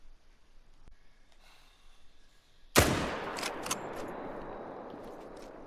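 A single loud rifle shot cracks out in a hunting video game aimed at a red deer stag, a sharp blast followed by a rolling echo and decaying tail after a quiet, faintly ambient stretch.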